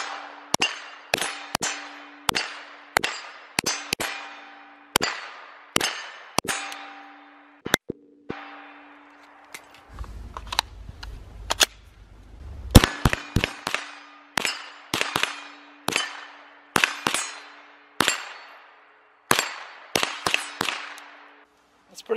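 A KelTec Sub 2000 9mm carbine fires a long string of sharp, loud shots in quick, uneven bursts, broken by a brief pause with some low rumble and metallic handling.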